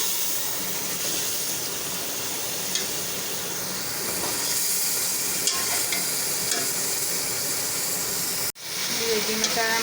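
Masala of crushed and ground red chilli being stirred in a pan for beef nalli biryani, a steady loud sizzle and hiss with scraping stirs, briefly cut near the end, no talking.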